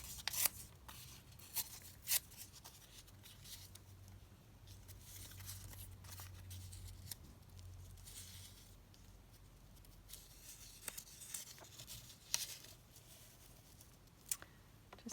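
A piece of paper torn by hand while making junk journal ephemera, producing soft, faint rustles and scattered crisp rips, close and quiet with no voice.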